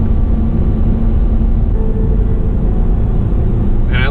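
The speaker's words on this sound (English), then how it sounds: "I love the sound that comes from it too, especially with even the stock exhaust. This thing crackles and pops from the factory." A 2016 Hyundai Genesis Coupe 3.8 V6 with stock exhaust accelerating, a loud, deep, steady engine drone heard from inside the car, with a brief higher note near the end.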